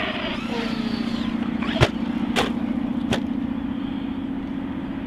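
An MJX Hyper Go 1:10 RC monster truck drives and jumps, its electric motor whining steadily while three sharp clatters of landings or impacts punctuate the run.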